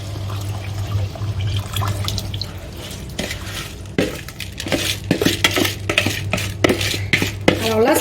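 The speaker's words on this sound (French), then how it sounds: "on va ajouter donc le riz et le volume d'eau dans lequel on l'avait laissé reposer" Soaked rice and its soaking water go into a cooking pot with cooked peas for an Indian chicken rice dish: splashing, pouring water and clattering knocks against the pot, close and fairly loud, over a low steady hum.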